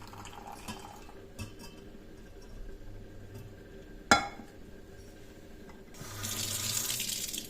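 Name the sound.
water poured off cooked lentils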